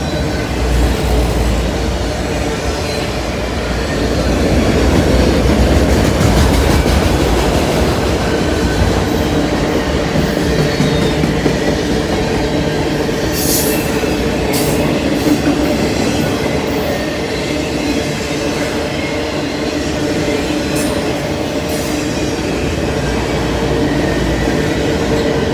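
A freight train with boxcars passes on the old B&O line, loud and close, a continuous rumble of wheels with rhythmic clickety-clack and occasional squeals sustained throughout.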